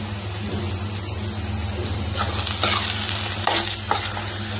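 Curry fries in a pan while being stirred, a steady crackling sizzle with a constant low hum beneath and a few louder scraping strokes of the spoon toward the end.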